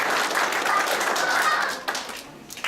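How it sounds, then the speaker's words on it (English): A scout crossover ceremony audience claps for a couple of seconds, a steady round of applause that thins out toward the end. "let's give Ryan a big round of applause."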